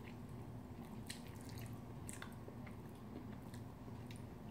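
Close, quiet chewing of a mouthful of Jeonju bibimbap, with soft wet squishes and a few faint crunchy bites over a low steady background hum, no talking.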